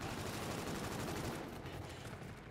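Dense, continuous video game gunfire rattles along with no gaps, loud and close for the whole stretch, with no voices over it.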